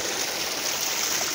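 Steady, loud water gushes from the outlet of a solar-powered tubewell in Pakistan, a continuous broadband rush filling the whole moment with no pauses and no voices.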